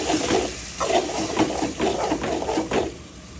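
Shrimp sautéing in a pan with ginger-garlic paste, green chili paste, chili, coriander and cumin, a loud sizzle broken by repeated scraping stirs at an irregular rhythm, close up with no talking.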